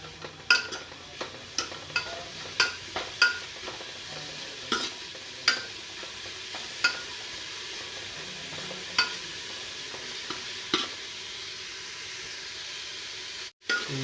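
Dry silver fish being stirred and fried in a pan until golden brown, a steady sizzle and hiss with repeated sharp scraping taps of the spoon, close and moderately loud, no talking.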